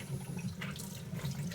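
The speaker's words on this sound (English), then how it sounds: "I'm now going to give it a quick rinse" Boiling water rinses a bowl in a kitchen, a faint steady trickling splash of running water with a brief brighter spatter partway through.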